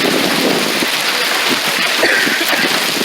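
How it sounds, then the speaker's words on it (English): Hail comes down in Las Vegas as a dense, even, hissing patter that stays loud and unbroken throughout, with no voices. "So this is hail."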